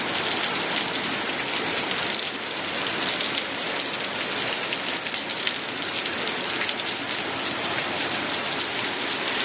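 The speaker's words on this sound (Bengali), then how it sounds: "দেখো বন্ধুরা, কি বৃষ্টি" Steady rain falls on surfaces in a village, a dense continuous patter of drops with no pauses, moderately close and without talk.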